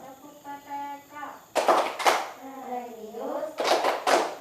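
Schoolchildren clap out the PPK clapping routine in a classroom, two bursts of quick rhythmic claps separated by a teacher's sung speech, near and moderately loud.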